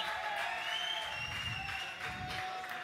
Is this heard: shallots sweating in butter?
no